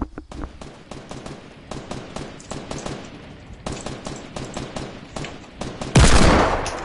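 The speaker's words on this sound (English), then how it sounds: "Oh, I should use my hand cannon." Rapid bursts of loud hand cannon gunfire in Fortnite, a steady run of sharp shots ending in a bigger blast.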